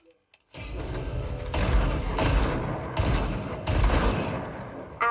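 Rapid bursts of gunfire from a weapon in the Fortnite Battle Royale video game, several loud clusters of shots in quick succession with short gaps between them.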